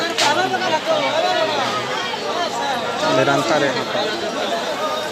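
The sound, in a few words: crowd of kanwariya pilgrims at Baba Dham temple, Deoghar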